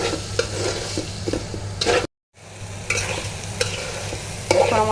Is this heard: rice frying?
yes